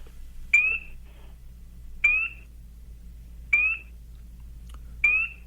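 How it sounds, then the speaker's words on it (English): A recorded spring peeper tree frog calls at night, four clear, evenly spaced rising peeps about every second and a half, each short and piercing, standing out over a low steady background hum. "It's a spring peeper."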